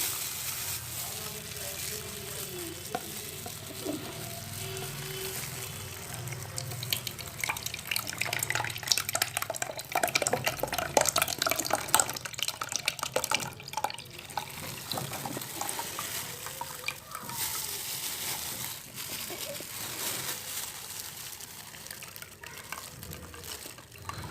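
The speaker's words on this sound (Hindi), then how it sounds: "अब हम इसमें निकाल लेते हैं ये पानी" Water being poured off while making ghee from milk cream, a steady splashing and trickling stream that runs loud and close throughout, with a brief surge in the middle.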